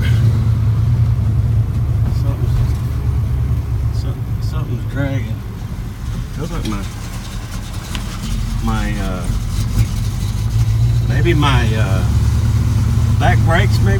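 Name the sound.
1993 Ford Fox body coupe engine driving around the block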